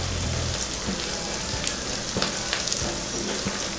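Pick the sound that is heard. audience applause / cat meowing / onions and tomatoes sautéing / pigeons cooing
onions and tomatoes sautéing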